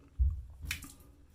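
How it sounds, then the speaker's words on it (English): Wet shaving brush squeezed to push out water, giving a soft, quiet squish with a faint dribbling splash, brief and close with no talk. "Squeeze out the water a bit."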